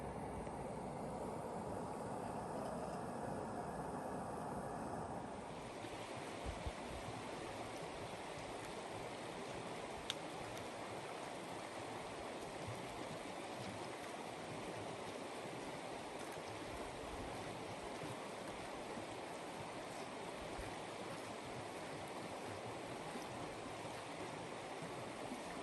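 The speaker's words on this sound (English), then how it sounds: "through this little bit of bushes here, there would be the Sun River" Sun River flowing through bushes in the Bob Marshall Wilderness, Montana, heard as a steady, broad rushing of water that holds constant throughout, close and continuous with no voices.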